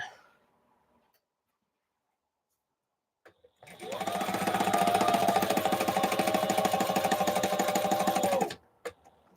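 A sewing machine stitching panels for a large curtain runs in a steady, fast, rhythmic whirr for about five seconds after near silence, then stops, followed by a couple of small clicks.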